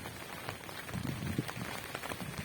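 Steady rain pattering on a surface during a stormy spell with hurricane-force wind after leaving a cemetery, a dense close hiss with scattered drop taps, fairly quiet and with no voices.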